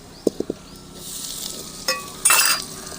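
Hot peanut oil sizzles softly while mustard seeds and asafoetida fry, a few sharp pops and crackles bursting near the start, then a brief clatter of utensils.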